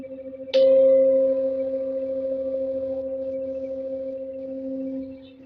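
One strike sets a singing bowl humming with a clear, sustained two-note drone that hangs steadily for several seconds before dropping away.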